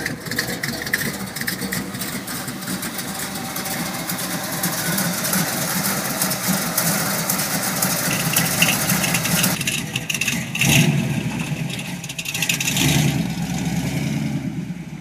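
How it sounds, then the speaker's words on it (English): A 1965 Buick Special with a 455 V8 idles with a steady, loud, rough rumble that stays close and continuous, briefly rising as the engine is revved and then settling back, with no talking over it. "it's got a 455 in it, and it sounds mean"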